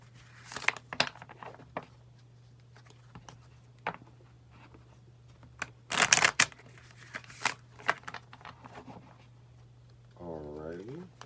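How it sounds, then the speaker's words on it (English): Tarot cards, the minor arcana deck, shuffled in a few brisk riffling bursts with soft handling rustles between, close by, and a voice speaking briefly at the end. "Now we're going to go ahead and shuffle your minor arcanas"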